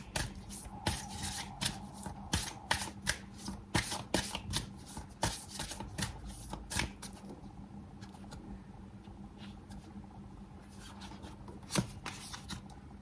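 Tarot cards are shuffled by hand in a quick series of crisp riffling slaps and flutters, close and fairly quiet, then fading into a few sparse taps.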